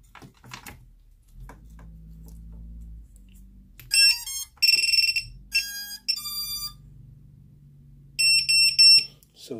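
A Vifly Finder drone buzzer sounds in several loud, shrill bursts of rapid beeping separated by short gaps, with quiet handling noise and a low hum between them.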